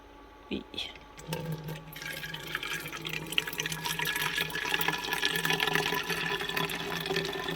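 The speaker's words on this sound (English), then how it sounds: "Now I will pour this coffee inside of the bottle" Coffee is poured into a bottle inside a minivan, a steady trickling and gurgling stream that grows fuller as the liquid builds, preceded by a few clinks and handling knocks.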